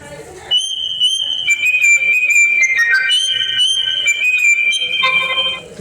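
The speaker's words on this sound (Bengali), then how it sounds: "এখানে যে রিংটোনের সাউন্ড এইটা একটু শুনবো চলুন দেখা যাক" A button phone's built-in ringtone plays loudly and alone, a bright electronic melody of sustained tones and short notes running almost six seconds after a brief quiet start.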